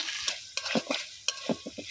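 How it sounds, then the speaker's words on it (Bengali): Ginger garlic paste frying in oil over a wood-fired stove, stirred with a spoon that scrapes and knocks in several short strokes over a soft sizzle. "এখন আমি একটু ভালোভাবে সুন্দর করে ভাজা নিব আদা রসুনটা তেলের মধ্যে।"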